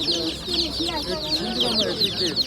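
Chickens and small chicks of a laying breed cluck and peep continuously at a busy poultry market in Osmaniye, a dense high-pitched chorus that never lets up.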